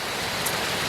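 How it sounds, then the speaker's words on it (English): Heavy rain pours steadily during a hike in the Thailand woods, a dense, even hiss of falling water that fills the whole second with no voices. "it's raining really hard right now"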